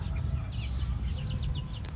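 Backyard chickens feeding on banana plants give short, faint clucks and chirps over a steady low outdoor rumble, scattered across a brief moment with no talk.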